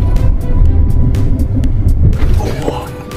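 A Li Auto car brakes hard from speed with the P (park) gear engaged, decelerating at about 0.6 g; a loud, close, low tire-and-road rumble fills the cabin while a voice speaks over it.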